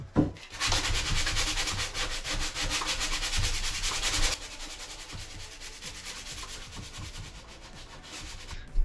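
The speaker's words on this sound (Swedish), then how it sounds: "nu har jag spacklat igen alla skruvhål och nu ska jag slipa de här" Rhythmic back-and-forth rasping of sandpaper on wooden shelves, loud and close for several seconds, then softer, scratchier strokes before a final bump.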